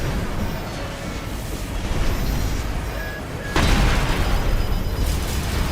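Plasma missile explosions from the mech combat game Armored Core VI, a dense continuous rumble of blasts with a sharper, louder burst midway, heard without talk.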